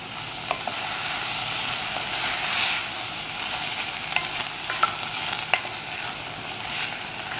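Onions, peppers, tomatoes and kale frying in a pan give a steady close sizzle, broken by a few light clicks and scrapes of stirring.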